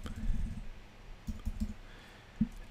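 Light keystrokes on a computer keyboard typing a command while working in Rhino modeling software, a few soft clicks in quick bursts, fairly quiet and close, with no talking.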